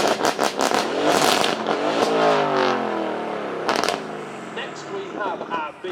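Twin-turbo V8 supercar of over 500 horsepower revving hard on a track at a supercar weekend, a loud roaring sweep that rises and then falls as it passes, with a sharp crackle partway and fading engine tone afterward.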